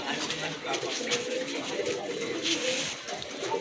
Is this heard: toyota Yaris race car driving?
no